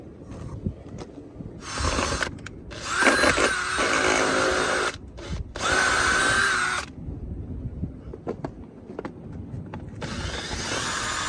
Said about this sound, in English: we're going to go at it with a drill just to drill the point home